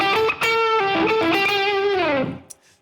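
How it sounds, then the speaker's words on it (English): Distorted electric guitar with heavy gain through a Friedman Dirty Shirley amp, guitar volume and tone on 10 and the middle pickup selected, plays a loud sustained melodic lead phrase with bends that rings out alone and then cuts off. "I got the Friedman Dirty Shirley turned up pretty good, so I get a lot of gain."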